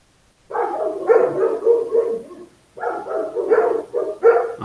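A dog barks and yips in two loud, rapid flurries separated by a short pause, close by, with no talk over it.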